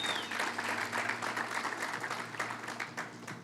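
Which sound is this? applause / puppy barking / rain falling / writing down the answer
applause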